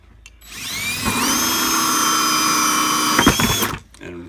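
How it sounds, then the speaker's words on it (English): A power drill bores a hole through a plastic bucket, a steady high whine held for about three seconds close up, then stopping. "I'm going to be drilling 6 holes here."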